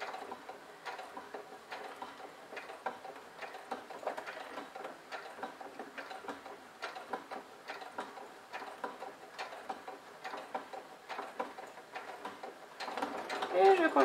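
Domestic sewing machine set to a 3.5 stitch length, sewing slowly around a curve in fabric with light, rapid mechanical ticking in short bursts, faint under a voice talking throughout.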